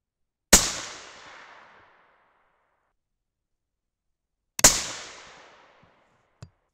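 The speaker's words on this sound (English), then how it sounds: "We're gonna load these guys from the magazine and shoot them like normal." Two sharp 6.5 Creedmoor rifle shots fired with CCI BR4 primers ring out about four seconds apart, each a loud crack with a decaying tail, followed by a small metallic click.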